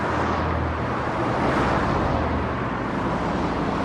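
Steady road traffic roars without a break, a dense broadband wash of engines and tyres with no single vehicle standing out and no voices.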